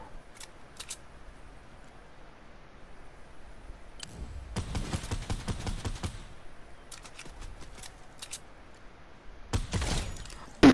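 Fortnite gunfire in bursts: a sharp volley of shots, a longer sustained burst of rapid fire, then scattered single shots and a final loud close burst, set against quiet game ambience.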